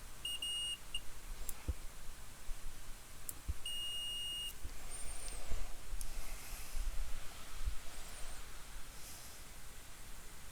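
A few short electronic beeps from a multimeter in continuity buzzer mode, testing a Xiaomi Redmi 7 phone, sound over a faint hiss, including one longer steady tone, with quiet gaps and small clicks between them.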